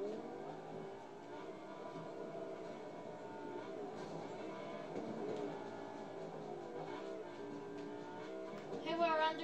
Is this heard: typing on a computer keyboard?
no